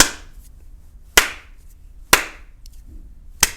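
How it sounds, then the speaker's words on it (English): Three slow, evenly spaced single hand claps, sharp and close, ringing briefly in a quiet room with silence between each. "clapping at the end of every song like this"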